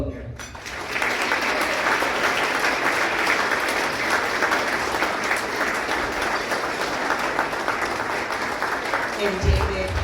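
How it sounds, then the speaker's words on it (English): A gala crowd welcomes an award winner with loud, sustained applause that swells in quickly and holds as a dense, unbroken wash of clapping, close and full throughout. "I'd like you to give a welcoming round of applause"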